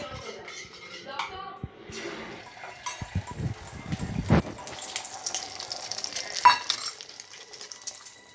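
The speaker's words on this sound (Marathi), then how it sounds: "तिला अंडा फ्राय करून देते आता मी" An egg fries in a pan with a soft, intermittent sizzle, joined by clatters of utensils and splashes of running water nearby.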